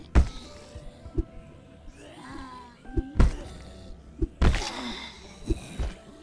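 Spiked baseball bat strikes on zombies in Project Zomboid: four or five sharp, heavy thuds spaced a second or so apart, close and punchy, with groaning and shuffling sounds between blows.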